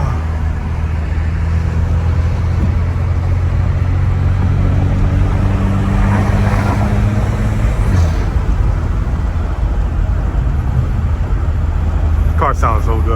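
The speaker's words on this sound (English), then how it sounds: "Car sounds so good though" An Alfa Romeo car engine rumbles loudly and steadily, its low idle droning close by for the whole stretch with a constant roar of noise around it.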